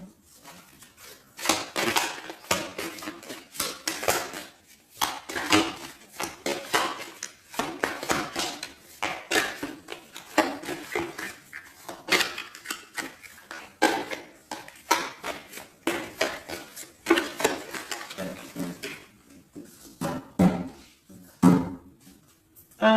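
Tarot cards are cut and shuffled, giving repeated crisp slaps, flicks and riffles in uneven bursts close by, with only occasional faint voice.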